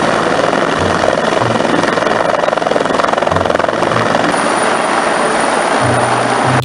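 A loud, continuous whirring rotor drone with steady buzzing from a toy Indonesian military helicopter, close and unbroken throughout, like a small helicopter spinning up.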